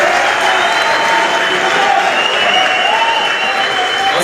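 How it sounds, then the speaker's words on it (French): Audience at a live stand-up comedy show in Montreal applauding, a dense, loud, continuous wash of clapping from a large crowd that holds steady throughout with no pause. "Merci beaucoup, il mérite énormément d'applaudissements"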